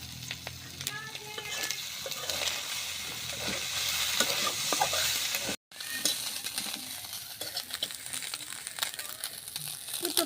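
Fish frying in mustard oil in a pan, in a rural village kitchen: a continuous close sizzle with bursts of crackling and stirring scrapes, with a brief dropout partway through.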